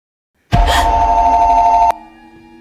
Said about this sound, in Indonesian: Telepon itu bunyi lagi dari pihak alarm security.